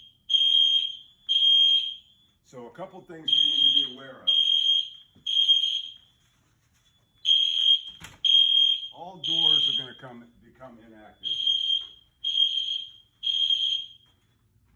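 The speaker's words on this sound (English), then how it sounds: "now that's our alarm panel going off now" A loud electronic building fire alarm panel sounds in repeated rhythmic beeping pulses, pausing briefly while someone speaks between bursts.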